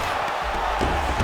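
In the video game EA Sports UFC 5, an arena crowd roars in a dense, steady wash of cheering during a mixed martial arts bout between Kleber Koike and Yutaka Saito, swelling slightly toward the end.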